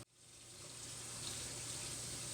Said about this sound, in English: Fill it about halfway with like warm water